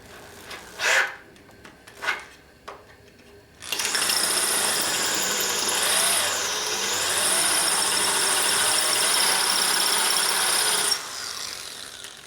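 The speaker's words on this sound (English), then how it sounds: "So we'll see if we can drill it deeper before it digs in and quits cutting" A few sharp knocks, then a loud continuous grinding whine as a drill bores into metal on a 1958 Harley-Davidson Panhead 74ci engine top end for several seconds before it stops.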